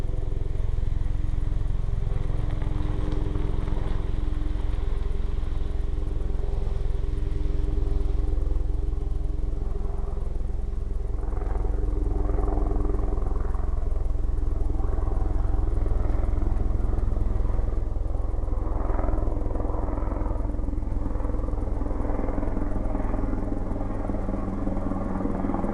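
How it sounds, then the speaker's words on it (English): Helicopter passing overhead, its low thudding rotor and engine drone holding steady throughout, fairly loud and continuous outdoors, with no one speaking over it. "Excuse the helicopter going overhead."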